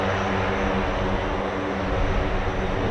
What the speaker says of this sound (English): Always a pleasure for a C-130 on our screens.